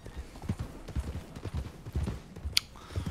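Rhythmic clip-clop of horse hooves at a steady trotting pace in the video game Red Dead Redemption 2, with a brief sharp click near the end.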